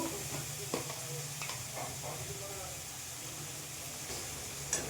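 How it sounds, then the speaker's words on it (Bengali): Spice paste frying and being stirred in a pan for a fish-head curry: a continuous soft sizzle with scraping stirs and occasional clinks, and faint voices in the background. "আগে মশলাটা কষিয়ে ভাজিয়ে নেবো ভালো করে।"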